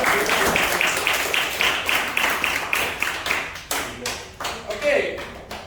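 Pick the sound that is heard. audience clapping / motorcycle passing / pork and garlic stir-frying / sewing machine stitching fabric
audience clapping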